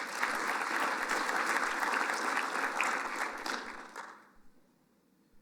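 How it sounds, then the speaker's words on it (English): An audience at a State of the City 2025 event in Raytown gives a round of applause, a dense wash of clapping that holds steady for about four seconds, then trails off to a few scattered claps. "Give her a round of applause."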